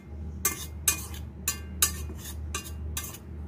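Spoon scraping and clinking against a bowl while fish siomay mixture is stirred by hand, about seven sharp metallic strokes in a steady rhythm over a low background hum, close and fairly quiet.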